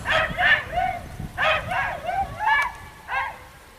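Close, high-pitched yapping from a small dog: several quick barks in uneven clusters, loud and clear against a quiet background.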